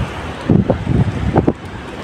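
Strong wind gusts near open water, buffeting the microphone in loud, rumbling bursts that rise and fall over a couple of seconds.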